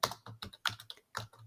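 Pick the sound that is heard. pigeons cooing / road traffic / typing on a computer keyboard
typing on a computer keyboard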